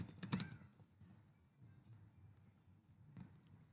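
Quiet, close typing on a computer keyboard, with a brief flurry of key clicks at the start and sparse taps after it in a quiet room.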